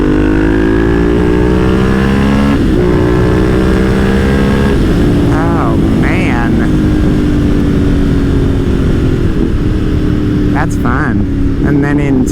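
A Ducati motorcycle engine revs and pulls hard while riding, its rising drone stepping up through gears with a brief dip between, loud and close with wind noise, while a rider talks over it.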